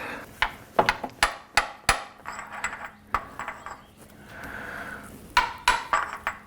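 Metal-on-metal hammer taps drive a 32 mm deep well socket to seat a part on a 2000 Acura Integra, with clusters of sharp ringing strikes at an uneven pace, close and loud, with no voices.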